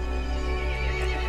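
A horse whinnies in a steady, continuous stretch in the video game Resident Evil Village, its voice layered over a dense, constant background of ambient game sound.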